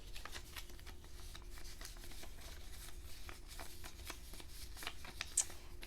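Tarot advice cards being shuffled by hand, a steady run of soft riffling flicks and slaps, close and fairly quiet, with no one talking.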